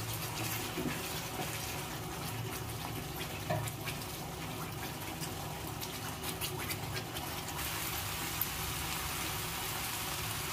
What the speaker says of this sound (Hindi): मसाला भुनने के बाद इसमें पानी अपने अंदाज से हम आधा ग्लास पानी डाले हैं